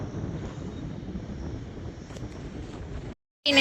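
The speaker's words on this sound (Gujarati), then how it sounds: "મસ્ત પવન આવે ને દરિયામાં।" Steady, blustery wind rumbles across the microphone on a new bridge over the sea near Dwarka for about three seconds, then cuts off briefly before a louder gust returns.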